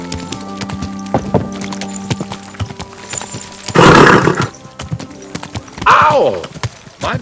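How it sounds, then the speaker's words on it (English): A horse in the video game Kingdom Come: Deliverance 2 whinnies twice amid clopping hooves and rustling movement, the neighs loud and close. "Easy, good horse."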